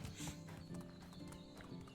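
A horse's hooves clip-clop in the medieval video game Medieval Dynasty, a steady, fairly quick rhythm of close hoof strikes over soft ambient sound.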